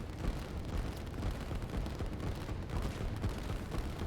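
Artillery in the strategy video game Line War keeps firing, a dense, continuous crackle of shots and rumbling impacts at steady loudness throughout.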